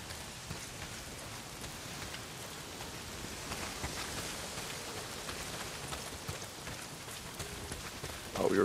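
Heavy rain pours steadily in the Days Gone video game, a dense even hiss of drops on surfaces with no other sounds until a brief louder burst at the very end.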